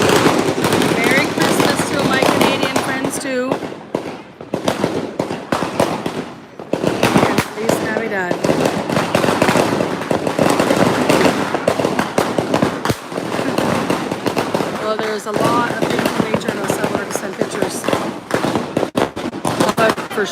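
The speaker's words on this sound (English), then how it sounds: "Even little pops of fireworks." Dense, continuous crackling and popping of Christmas Eve fireworks and firecrackers going off all around in El Salvador, with sharp bangs scattered through a constant roar.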